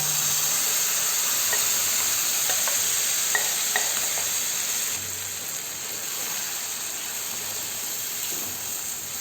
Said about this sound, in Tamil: வெங்காயம் பாருங்கள், இந்த மாதிரி லைட்டாக ப்ரௌன் கலர் ஆனதும் நம்ம பச்சைப்பயிர் கடைஞ்சி வச்சுருக்கோம் இல்லைங்களா, அதை நம்ம இது கூட சேர்த்துக்கலாங்க